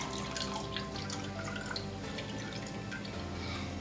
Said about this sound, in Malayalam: പച്ചക്കളർ തണുത്ത വെള്ളത്തിൽ നമ്മൾ ഡ്രെയിൻ ചെയ്യുക.